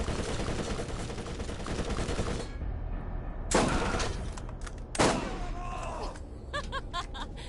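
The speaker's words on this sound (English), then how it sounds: "Keep shooting! Shoot them all!" Video-game gunfire in Borderlands 1: a thick stretch of rapid automatic shooting up front, then a pause and a few sharp, separate shots, with short staccato bursts trailing off near the end, moderately loud.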